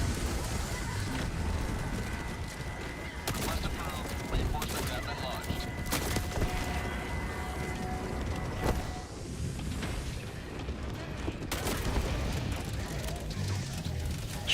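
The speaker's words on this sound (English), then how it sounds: "That Gatling barrage is a little close," Rapid Gatling barrage in a video game, dense rattling volleys of gunfire and explosions pounding continuously, some blasts close and sharp, others rumbling in the background.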